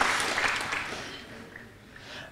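Audience applause at a hackathon closing ceremony in a large hall, a burst of clapping that fades over about two seconds with some background voices.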